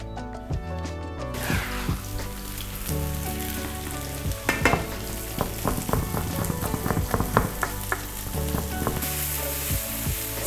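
Loud, steady sizzling of onions frying in hot oil, with crackles and occasional stirring clatter throughout.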